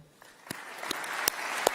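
Graduates at a university graduation ceremony begin applauding their teachers, researchers and support staff. Scattered individual claps ring out and slowly build into a light, growing patter.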